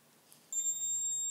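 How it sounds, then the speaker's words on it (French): A photo flash unit fired at full 1/1 power: a short faint beep as it fires, then a longer steady high-pitched beep signalling it has recharged, clear and alone. "il y a deux bips. Il y a un bip rapide quand ça flash, et ce bip plus long, en fait, qui vous dit que ça y est"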